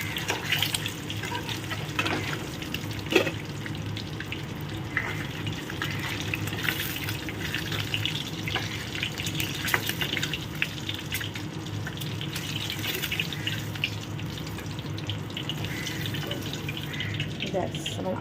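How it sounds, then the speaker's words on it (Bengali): Eggs fry in hot oil in a home kitchen, giving a steady crackling sizzle with occasional sharper pops that runs throughout, mixed with some faint background clatter. "বলে ডিমটাকে একটু ভেজে নিই, আমি একটু সবসময় ডিম ভেজেই কারিটা করি"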